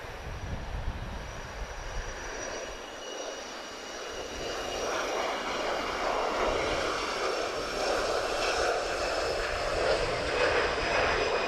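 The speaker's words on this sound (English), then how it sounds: "This is a very good looking Embraer Legacy 650E." An Embraer Legacy 650E business jet roars past at an airport, a broad, steady engine rush that grows louder and fuller as it nears and holds at a strong, sustained whine.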